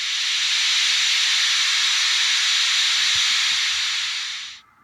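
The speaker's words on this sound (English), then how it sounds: "is steam release" A loud, steady hiss of released steam from a Bachmann Spectrum 4-4-0 sound-equipped model locomotive runs unbroken for several seconds, then cuts off abruptly.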